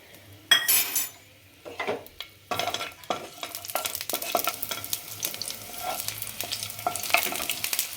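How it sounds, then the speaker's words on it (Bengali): Garlic pieces fry in white oil in a nonstick pan while a utensil clinks and scrapes against it, giving scattered sharp knocks over a soft, irregular sizzle, with quiet gaps between some strokes and no speech. "সাদা তেল দিচ্ছি রসুন টুকরো দিয়ে দিচ্ছি"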